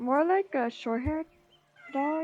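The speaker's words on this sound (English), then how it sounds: "Meowing in the background." A cat meows several times close by with rising, drawn-out calls, interleaved with a person talking.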